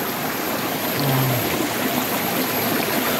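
Stream water flows in a steady, close, fairly loud rush with an even gurgle, unbroken and with no talking over it.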